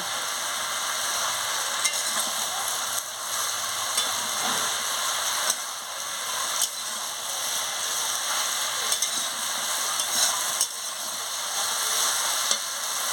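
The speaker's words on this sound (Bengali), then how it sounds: "এবার আমি চিংড়ি মাছটাকে দিয়ে দিচ্ছি চিংড়ি মাছ দিয়ে ভালো করে কষিয়ে নিচ্ছি আনাজের সঙ্গে" Raw pumpkin and prawns sautéing in a pan keep up a loud, steady sizzle and hiss with occasional scraping stirs, close and continuous, no talking.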